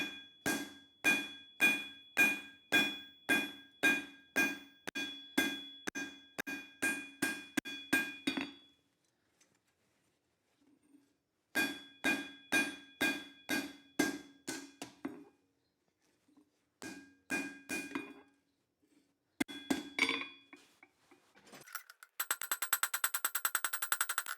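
Hammer blows flattening a spot along the spine of a hand-forged steel chisel, ringing metallic strikes in fast rhythmic bursts of about fifteen, pausing, then more runs of steady clanging, close and loud.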